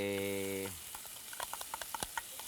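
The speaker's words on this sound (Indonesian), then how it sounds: "Oke, sekarang kita tumis." Ingredients for Betawi-style sayur asem are sautéed in a pan; a brief clear tone gives way to soft, intermittent sizzling and light frying crackles, fairly quiet and close.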